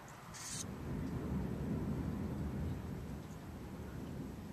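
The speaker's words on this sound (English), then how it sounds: "I enjoy the thunder. I do." Thunder from a New Year's Eve thunderstorm rolls as a deep, sustained low rumble that swells and slowly fades, heard from a distance with steady background noise and no talking.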